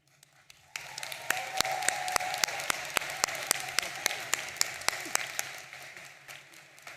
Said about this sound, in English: How about another round of applause of Johnny Holliday, the voice of the Terps?